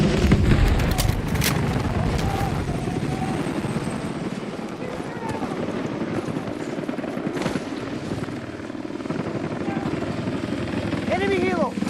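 Enemy helicopter in the Battlefield 6 video game, its dense rotor drone running steadily beneath layered gunfire, explosions and battlefield noise, with voices and radio chatter over the mix throughout.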